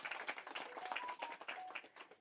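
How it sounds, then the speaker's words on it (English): A crowd at a Minister of Transport train ride event claps for railway management, faint and uneven rounds of applause with occasional whistle-like tones. "we've got to give the PRASA management a very big round of applause"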